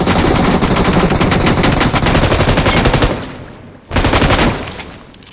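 Rapid automatic M4 rifle fire in a video game match, loud sustained bursts with a short pause, then another burst trailing off.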